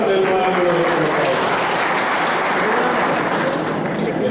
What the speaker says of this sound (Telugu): ఈ సందర్భంగా మన గౌరవ ముఖ్యమంత్రి గారికి చప్పట్లతో ఘన స్వాగతం తెలపాలని కోరుకుంటున్నాను